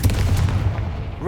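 Confringo blasting spell fired in Hogwarts Legacy, a loud booming burst with rumbling low impacts and crackling, close and dense, ending with a rising whoosh.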